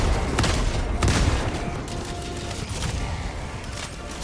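Gunfire rattles in Helldivers 2 during a fight against Automatons, with dense bursts and booming impacts that are loud and continuous. Heavy blasts stand out at the start, and no voices are heard.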